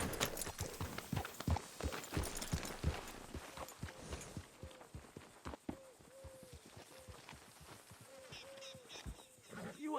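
Horse walking in Red Dead Redemption 2, hooves clip-clopping in a steady close rhythm that quickens early then settles, with a faint game ambience and occasional soft vocal sounds from the animal.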